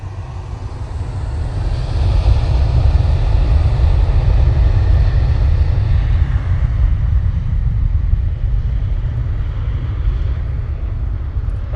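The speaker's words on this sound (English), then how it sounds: "Ryanair off to Venice." A Ryanair jet takes off at Manchester Airport, its engines making a loud, deep, continuous roar that swells early and holds steady for the whole stretch.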